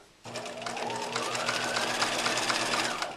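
Sewing machine running a steady zigzag stitch along a trimmed curved seam of pajama pants, close and continuous with a rapid rhythmic needle chatter and a low motor hum, no talking.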